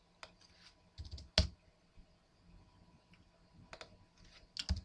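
Computer keyboard being typed on at a desk, a few sparse clusters of sharp key clicks close by separated by quiet stretches, with no talk.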